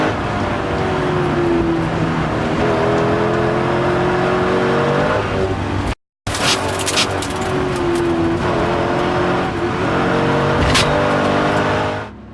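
A yellow Corvette race car's engine roars loudly as it speeds by on a Targa Newfoundland rally stage, revving and shifting with tires on the road, briefly cutting out before continuing.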